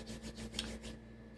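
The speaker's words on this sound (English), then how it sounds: "sanding and varnishing" Wood furniture being sanded by hand, a steady rhythmic rasping rub of several quick strokes over a constant low background hum, close and moderately quiet.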